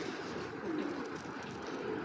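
A racing pigeon from a club loft coos close by, a low soft warbling call rising and falling over steady room noise, with no voices.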